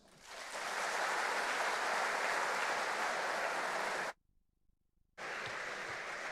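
An audience at a welcome event in Madrid breaks into loud, sustained applause after a speech. The clapping stops abruptly for about a second, then resumes at a similar level.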